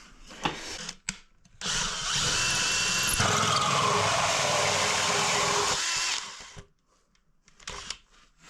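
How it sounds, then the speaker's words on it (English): A power drill bores a hole up into a laundry room ceiling in one continuous, close, loud run of about four seconds, with brief knocks and handling noise before it starts and after it stops. "That's where we drill an hole."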